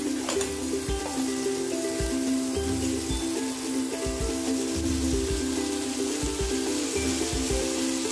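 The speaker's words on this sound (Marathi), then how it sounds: "आणखीन थोडं बटर घालून आपण त्यावर त्या मॅरिनेट केलेल्या भाज्या देखील शेकून घ्यायच्या" Marinated vegetables roast in butter on a hot tawa, giving a steady, continuous sizzle with soft stirring scrapes, close by and alone, no talking.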